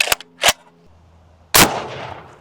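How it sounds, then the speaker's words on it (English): A single loud, sharp gunshot from a Gold Scar rifle chambered in .308, fired into a stack of Lego-filled books, cracks close by and rings off into a long decaying tail, preceded by a couple of small metallic clicks. "Moving up to the Gold Scar, shooting around a 308."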